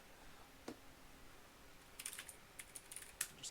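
Computer keyboard keys tapped in short, uneven bursts, mostly in the second half, with one isolated click early on; quiet and close, with no voices.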